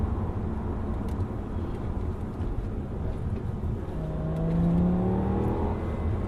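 An Audi S6 V10 engine heard from inside the cabin, a steady low drone that swells into a rising, revving pull as the car accelerates near the end, with tyre and road hum underneath.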